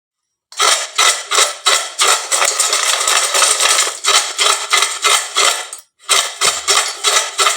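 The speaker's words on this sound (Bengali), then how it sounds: "এবার যে চিপসগুলি ভেজে রেখেছিলাম তার আওয়াজটা আপনাদের শুনিয়ে দিচ্ছি।" Crispy fried tomato chips being handled, making loud, close, brittle crunching and rustling in rhythmic bursts, broken by a short pause near the end. No one speaks.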